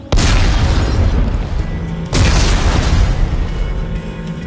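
Armed explosives detonate in Dead Space 3, two heavy booming blasts about two seconds apart, each a sudden loud burst followed by a long rumbling decay, close and powerful.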